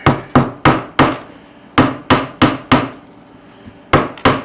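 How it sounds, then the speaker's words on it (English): A hammer taps a wooden dowel perch into the hole of a birdhouse kit, about eleven sharp, close wooden knocks in uneven clusters with short pauses between. "We're going to put it right here in the hole, tap it with a hammer"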